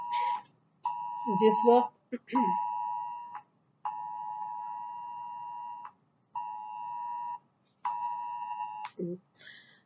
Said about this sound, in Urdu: کچھ الارم آ رہی ہے یہاں پر، اس کی آواز تھی